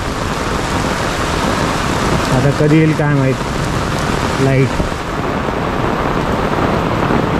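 Heavy storm rain pouring steadily in Mumbai Thane during an unseasonal downpour with a power cut, a dense close hiss throughout while someone speaks briefly in the middle.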